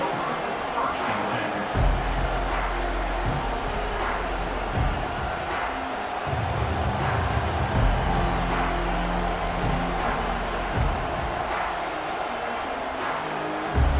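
Loud stadium crowd noise in a college football video game, a constant roaring wash of cheering that swells at moments, with play-by-play commentary over it.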